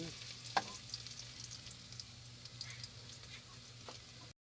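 Garlic sautés in a pan with a steady, soft sizzle and a few light ticks and clinks of a utensil, one sharper tap near the start, while a faint low hum runs underneath.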